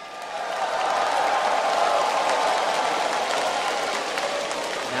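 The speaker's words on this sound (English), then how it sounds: "give them a cheer, ladies and gentlemen" A crowd of fans cheers and applauds at the League of Legends World Championship final between Taipei Assassins and Azubu Frost, rising quickly to a loud, sustained roar that holds throughout.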